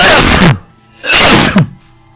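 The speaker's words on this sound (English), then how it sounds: "I'm gonna sneeze." Two sharp, loud sneezes close up, each a sudden burst of breath that cuts off abruptly, separated by a brief pause.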